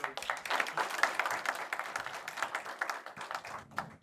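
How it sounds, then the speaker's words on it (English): Staff at a corporate town hall applaud a strong month's results, a brisk patter of hand clapping from a modest crowd, fairly close and even, fading slightly toward the end. "I think round of applause for that."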